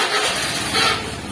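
A motorcycle passes by with a broad engine roar that swells briefly near the midpoint and then eases off, with no one speaking.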